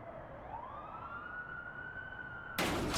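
An emergency vehicle siren rises and holds a steady wail over city traffic rumble in a gritty 1990s New York setting, then is cut off by a sudden loud burst of broadband noise near the end.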